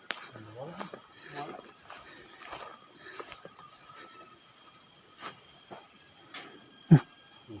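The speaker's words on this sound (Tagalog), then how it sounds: "Sikado bro." Cicadas buzz in a cemetery as a steady, shrill drone that holds throughout. Scattered soft rustles sit beneath it, and a single sharp knock lands near the end.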